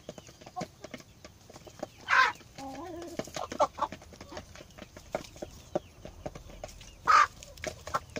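Chickens cluck softly nearby with scattered pecking and scratching sounds, plus two brief louder squawks.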